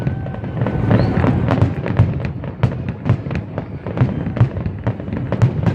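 Rapid bursts of Fourth of July fireworks over Tempe Town Lake, Arizona, pop and bang in quick succession, loud and close, with a constant crackling barrage filling the air.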